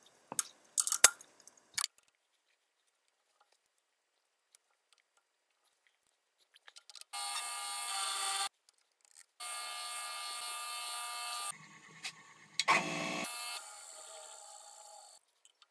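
Milling machine cutting with a new 3/8-inch carbide end mill at about 370 RPM, working on a breaker bar; after a few clicks, sustained bursts of steady cutting noise run for a second or two each, with brief pauses between.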